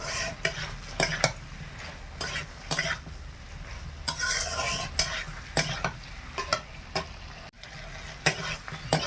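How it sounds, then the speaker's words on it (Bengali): Prawns sautéed and stirred in a frying pan for a prawn malai curry, a steady close sizzle broken by repeated scraping stirs of the spatula against the pan. "মাছটা দিয়ে আমি 2-3 মিনিট ভালো করে কষিয়ে নেই"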